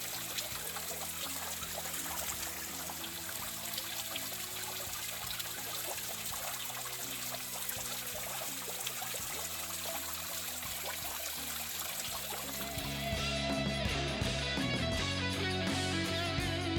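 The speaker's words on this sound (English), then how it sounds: "Nice little waterfall." Small waterfall trickling through a narrow rock slot in a nature preserve, a steady close splashing wash of water running without pause, growing slightly louder and fuller toward the end.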